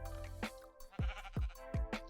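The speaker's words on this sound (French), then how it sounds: "Mais tais-toi le mouton, je t'ai rien demandé." Sheep in a modded horror-survival Minecraft world bleat repeatedly, four close, loud wavering cries in quick succession with no one speaking.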